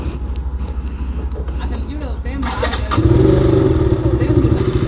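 A motorcycle engine starts and settles into a steady, throbbing idle that grows louder and fuller midway, close by, with people talking over it.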